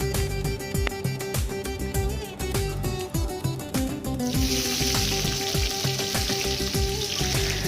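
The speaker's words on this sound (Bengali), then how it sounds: "তো তেলটা ভালোভাবে গরম হয়ে গেলে এর মধ্যে দিয়ে দেবো পেঁয়াজ কুচি।" Chopped onions hit hot rice bran oil in a pan over high flame and fry with loud, continuous sizzling and crackling, joined by brief clatters of stirring and no talk.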